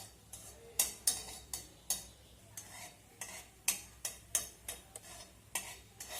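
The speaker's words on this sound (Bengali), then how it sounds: "প্রথমে সরিষার তেলে একটা শুকনো লঙ্কা ভেজে নেব।" A dried red chili fries in a spoonful of mustard oil in a kadai, faint sizzling broken by sharp, irregular clinks and scrapes of a stirring spoon against the pan about every half second, with no talking.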